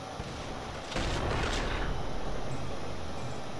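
A sniper rifle shot in the video game Sniper Elite 4 fires once as a loud, full blast that jumps out of a steady background and then rolls on in a long rumbling decay with no voices.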